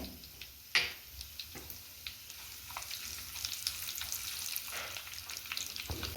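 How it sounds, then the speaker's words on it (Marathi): Curry leaves dropped into hot oil with crackled mustard seeds and cumin in a clay pot, a sharp burst of spitting at the start, then a steady close sizzle with light ticks and occasional clinks. "यामध्ये आता आपण कढीपत्ता घालून घेऊया"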